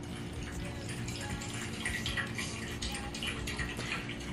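A dog laps water from a bowl nearby, a continuous wet slurping and splashing with fast irregular licks over a steady low background hum, and no talking.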